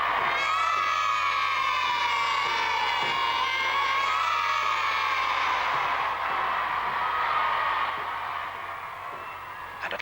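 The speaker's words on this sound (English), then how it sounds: "the children really shriek their heads off for their precious beefeaters" Crowd at the 1953 coronation procession in London, children shrieking and cheering for scarlet-uniformed beefeaters: a dense, continuous roar of high voices that holds steady, then eases slightly toward the end.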